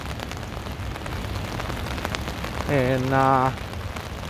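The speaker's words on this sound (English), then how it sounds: "the rain is coming down and it's cold" Steady rain pouring on a city street in downtown Chicago on a cold morning, a dense continuous hiss with a brief louder tonal sound near the end and a single spoken word.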